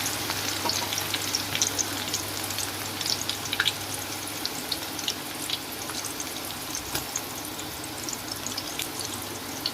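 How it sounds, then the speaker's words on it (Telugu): Sliced onions fry in hot oil for a chicken dum biryani, giving a steady, close sizzle with scattered crackles and pops throughout, no talking. "ఫ్రైడ్ ఆనియన్స్ కొరకు ఉల్లిపాయలు వేయించుకుంటున్నాం."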